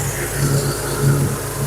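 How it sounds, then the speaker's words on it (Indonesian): A 1990 Honda Grand Civic engine idling steadily with the hood open, a low constant hum with faint swells, close by and alone. "Jadi saya review dengan kondisi mesin menyala"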